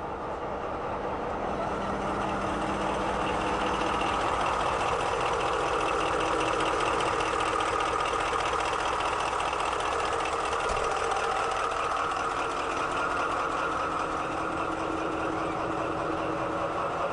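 A Siemens DualMode locomotive engine idles in a close, continuous diesel chug, a steady mechanical hum with fine rhythmic ticking and no voices.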